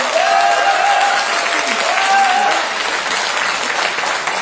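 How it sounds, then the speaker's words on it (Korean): A crowd at a Democratic Party joint campaign rally in South Chungnam gives warm, sustained applause, a loud, even wash of many clapping hands, with faint voices mixed in. "이분들에게 뜨거운 박수 다시 한번 부탁드립니다"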